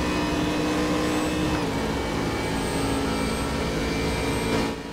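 Race car engines, including a Mustang, in the Raceroom racing game, a loud sustained whine of several engines roaring together with shifting pitch, steady throughout before easing at the end.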